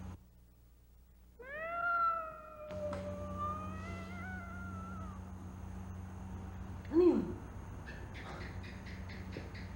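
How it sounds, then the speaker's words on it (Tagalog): A neighbor's cat meows in a few drawn-out, wavering calls, close and clear, followed by a short sharper cry over a steady low indoor hum. "Pusa sa kabila yun."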